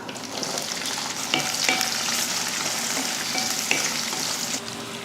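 Spices, small shallots and a large onion fry in oil for a mutton kulambu, giving a continuous close sizzle broken by a few stirring scrapes and clinks, with no voices.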